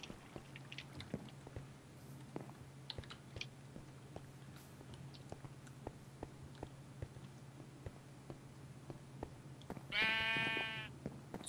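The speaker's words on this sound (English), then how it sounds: "It was a sheep." A sheep in Minecraft gives a single wavering bleat near the end, standing out over quiet ambience scattered with faint clicks and taps.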